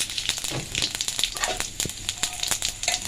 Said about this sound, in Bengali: এক চামচ আমি সাদা জিরে ফোড়ন দিলাম